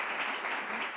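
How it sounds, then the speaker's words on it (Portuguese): A studio audience on a Canção Nova TV talk show breaks into brief, dense applause for about a second, steady and moderately loud with no voices over it. "vamos aplaudir então, aplauda Joinville"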